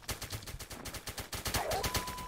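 Rapid automatic gunfire crackles through a Roblox shooter, a dense, steady stream of closely spaced shots for the whole stretch, loud and continuous, with no voices.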